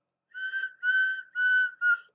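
A steam locomotive whistle sounds in four clear, tonal blasts with short gaps between them, heard alone.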